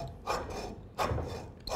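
A hard takrut amulet is cut open in short scraping strokes, three rasping bursts close by and fairly quiet, like a blade or saw biting into tough material.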